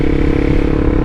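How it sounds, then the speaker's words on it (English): A motorcycle engine revs up before a downshift, a loud, steady, rough drone held close for about a second with no pauses. "it is basically bringing the revs up"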